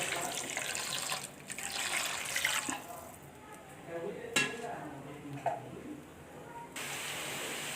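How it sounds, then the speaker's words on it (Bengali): Water pours and splashes into a pan of Bengali-style egg curry cooking at home, a running, hissing flow that starts and stops with brief clinks between, close by. "সামান্য জল দিয়ে দিতে হবে।"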